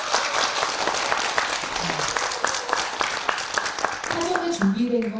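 Applause from a live audience at a literary concert, dense clapping filling the whole stretch with a few voices speaking over it near the end.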